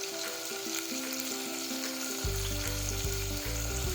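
Chopped tomatoes hit hot oil in a pan for guvar batakanu shak, a cluster bean and potato curry, and a dense, loud sizzle bursts up and keeps crackling steadily.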